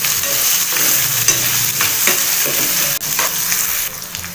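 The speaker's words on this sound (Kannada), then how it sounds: "ಈರುಳ್ಳಿನ ಹಸಿ ಸ್ಮೆಲ್ ಹೋಗಬೇಕು, ಅಲ್ಲಿವರೆಗೆ ಚೆನ್ನಾಗಿ ಫ್ರೈ ಮಾಡ್ಕೊಳ್ಳೋಣ." Onion and tomato frying in a pan for a ridge gourd palya, a loud, steady sizzle close by, broken by repeated scraping stirs with a brief gap near the end.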